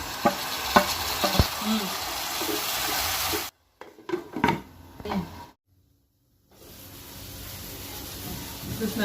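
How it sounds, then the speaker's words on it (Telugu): Chopped tomatoes go into ginger-garlic paste frying in oil, giving a steady sizzle with stirring clatter. The sound cuts out briefly midway, then returns as a softer, even hiss. "ఇప్పుడు అల్లం వెల్లుల్లి పేస్ట్ అయితే మంచిగా ఫ్రై అయింది అయిన తర్వాతనే నేను ఇప్పుడు టమాటాలు అనేది వేసుకుంటున్నాను"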